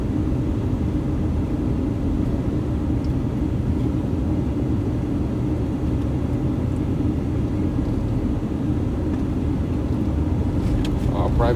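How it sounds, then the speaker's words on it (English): A private jet comes in to land in Las Vegas as a loud, continuous low rumble heard from the ground, steady and broad throughout with no clear peaks. "Private jet coming in hot."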